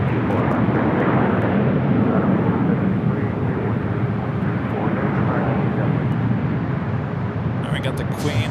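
An airliner takes off from runway 24 left at LAX with a loud, sustained jet roar that swells and holds throughout. Airport radio chatter sits faintly beneath it.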